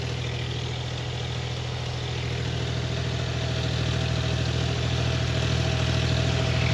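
A John Deere tractor engine running under load while pulling a cultivator in low fourth gear, a steady loud drone with a low throbbing pulse that builds slightly over the clip, no voices.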